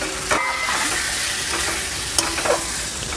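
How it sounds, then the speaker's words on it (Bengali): Ginger garlic paste with turmeric, cumin, coriander and Kashmiri chili powders frying in oil, a steady close sizzle with occasional scraping stirs of a spoon in the pan. "মশলা ভাজা হয়ে গেছে, তেল ছেড়ে দিয়েছে"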